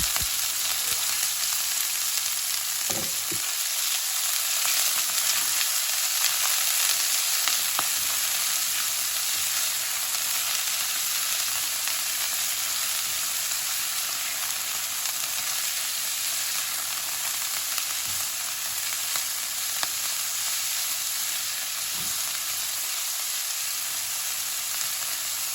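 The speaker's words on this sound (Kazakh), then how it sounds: "Ең алдымен етімізді қуырып алатын боламыз." Beef for goulash fries in hot oil in a pan with a steady, loud, close sizzle that carries on unbroken, with faint occasional stirring and no voices.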